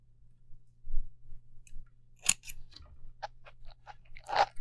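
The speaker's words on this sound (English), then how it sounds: "I am going to cut out this white string you see right here" Scissors snipping white thread off a custom fishing rod's 3D chevron wrap, a series of quiet sharp clicks and snips at an uneven pace, close by, with no talk.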